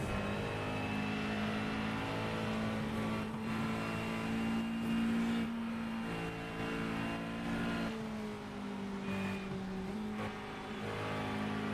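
Race cars speeding into the Porsche Curves during a 24-hour endurance race, steady sustained engine drone with shifting pitch as cars pass and downshift, moderately distant and even in level, no voices.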